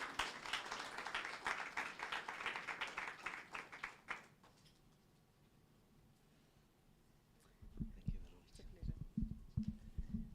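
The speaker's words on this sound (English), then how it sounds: "let's welcome him with a round of applause" Round of applause welcoming a speaker at a business masterclass workshop for small businesses, a few seconds of fairly close clapping that fades into quiet, followed by a voice speaking.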